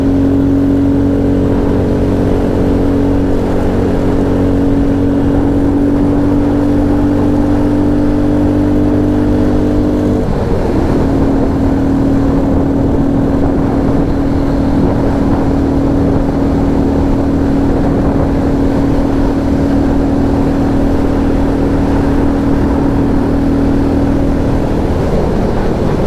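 A Royal Enfield Classic 350 single-cylinder motorcycle labours up the Bwlch mountain pass, its engine droning steadily and loud up close. About midway through, the pitch drops as the engine shifts, then it carries on pulling hard uphill with no talk over it.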